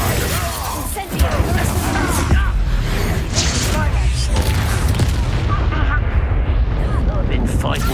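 Fiery blast of the Incendio spell in the video game Hogwarts Legacy, a dense, loud booming burst that rolls on continuously amid heavy combat effects and music, with a voice speaking over it.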